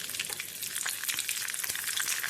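Curry leaves splutter in hot oil in a pan, making a dense, steady crackle of fine pops and hiss that stays close and fairly quiet throughout.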